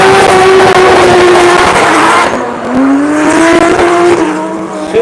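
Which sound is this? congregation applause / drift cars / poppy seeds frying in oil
drift cars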